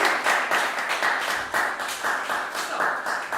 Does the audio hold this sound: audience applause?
yes